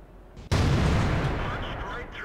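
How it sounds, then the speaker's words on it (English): A single heavy artillery blast from World of Tanks erupts sharply and rolls into a long, loud rumbling decay that fills the short stretch. "And here comes that artillery."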